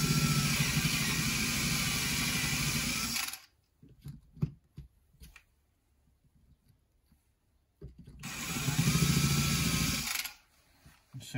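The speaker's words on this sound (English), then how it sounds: "You usually know when you've got to the same point of drilling as the last one, because the tone does change." A drill bores loudly and steadily into brake and clutch hydraulic cylinder parts from a Bond Bug, stops for several seconds of near silence with small clinks, then starts again for another burst before stopping.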